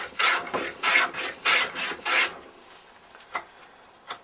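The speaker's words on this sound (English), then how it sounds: "you see me rubbing the edge" Wood rasps rhythmically against wood as the edge of a joint is rubbed back and forth in four strong strokes, then shorter, fainter passes follow, close and alone without speech.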